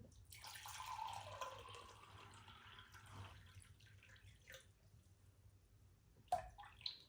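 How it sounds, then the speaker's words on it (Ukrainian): Water, 270 ml, is measured out for belyashi dough: a faint, soft run of pouring water opens the clip and fades, then one sharp clink follows near the end. "Перше, що мені треба зробити, це відміряти, як рецепт каже, 270 мл води."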